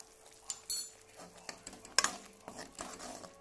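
A spoon stirs spices into potatoes in a pan for desi-style aloo dum, giving quiet scraping and a few light metallic clinks against the pan, with a soft sizzle underneath and no talking.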